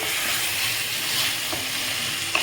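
Mutton masala sizzling and frying steadily in a pan while being stirred, a continuous close hiss with a faint clink of the spoon near the end.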